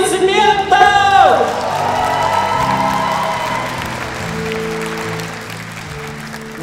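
An audience at a KVN comedy festival bursts into applause with whoops and cheers, loud at first, then settling into sustained clapping under music.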